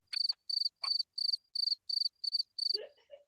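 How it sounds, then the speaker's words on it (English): Crickets chirp in eight evenly spaced, bright pulsed bursts, loud and close against silence, followed by a few faint scattered sounds at the end. "Fucking crickets. That's all they heard."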